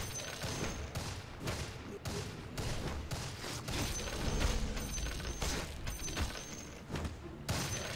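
Rapid bursts of gunfire and booming impacts from the video game Dota 2 crackle in a dense, continuous barrage, with short pauses between volleys and no clear speech.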